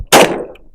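One sharp, loud shot from a Hi Point pistol cracks close by, then a short ringing tail fades within a fraction of a second.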